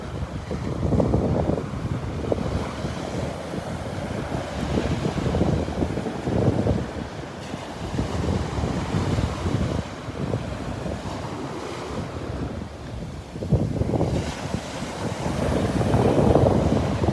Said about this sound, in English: just stop here and let you listen to the waves for a minute.